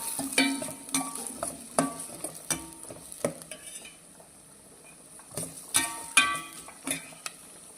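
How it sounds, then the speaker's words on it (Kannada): Cluster beans stir-fried in a pan, with irregular scrapes and clinks of a spoon against metal over a light sizzle, in bursts separated by a quieter stretch. "ಈಗ ಇದನ್ನು ಸ್ವಲ್ಪ ಫ್ರೈ ಮಾಡ್ಕೊಳ್ಬೇಕಾಗುತ್ತೆ ಸ್ವಲ್ಪ ಕಲರ್ ಚೇಂಜ್ ಆಗಬೇಕು"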